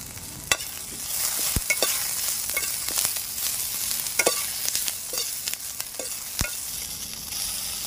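Garlic cloves and cumin seeds frying in oil in a kadai, with a steady sizzle broken by several sharp spatula clicks and stirring scrapes, close and moderately loud.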